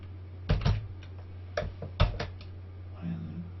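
Several quick key taps on a computer keyboard, coming in small clusters in a quiet room with a steady low hum underneath, while someone enters code in Excel VBA.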